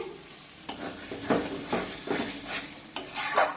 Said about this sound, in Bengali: ঢাকনাটা আমি তুলে নিচ্ছি নিয়ে নাড়াচাড়া করে দিচ্ছি